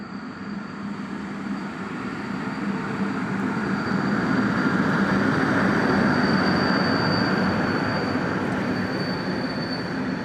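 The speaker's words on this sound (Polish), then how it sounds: "No i wjechał opóźniony około 70 minut pociąg Intercity" An Intercity train arrives at a station, running about 70 minutes late, with a heavy, rising rumble and a sustained high wheel squeal, growing louder then easing slightly as it slows.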